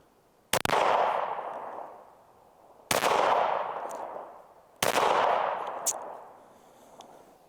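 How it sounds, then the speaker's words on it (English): Three loud, separate gunshots from a PSA Rock pistol fired at 7 yards outdoors, each a sharp crack followed by a long echoing decay, spaced about two seconds apart. "We're at 7 yards. First shots."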